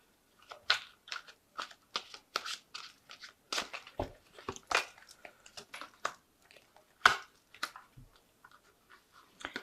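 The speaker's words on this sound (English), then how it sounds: "I'm just going to draw some cards from the Angel Tarot." Angel Tarot cards being shuffled and drawn by hand, a string of irregular soft flicks, slaps and rustles close by, quiet and with no talking.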